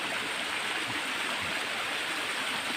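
Water of Huai Pa Phlu waterfall in Phrao, Chiang Mai, rushes in a constant, even hiss of flowing stream, moderately loud and unbroken, with no talk.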